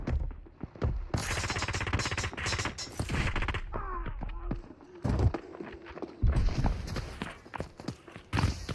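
Gunfire in the mobile shooter Delta Force Mobile, with rapid bursts of shots and sharp cracks in clusters over several seconds, mixed with footsteps and game noise, under a commentator talking.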